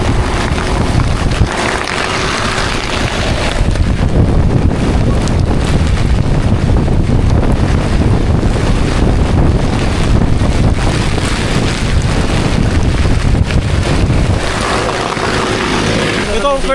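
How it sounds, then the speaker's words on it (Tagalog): Strong wind roars on a boat, buffeting the microphone in a continuous loud rush, with water and hull noise underneath and no clear talking. "ang lakas ng hangin po"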